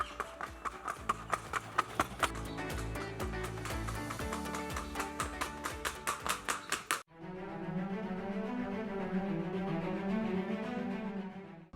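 A docile, active show horse of a champion breed moves with a steady, rhythmic clip-clop of hooves for about seven seconds before music takes over.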